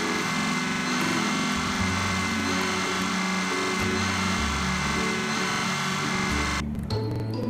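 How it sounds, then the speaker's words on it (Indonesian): An angle grinder works on a damaged excavator's metal in a truck and car repair video game, a steady loud whirring drone that holds throughout before cutting off sharply near the end. "Kita gerinda pelan-pelan."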